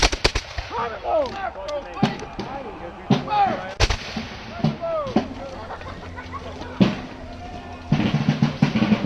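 Muskets fired by Revolutionary War reenactors at a Battle Road reenactment: several sharp, booming reports in uneven succession, close and echoing, with shouted commands and crowd voices between the shots.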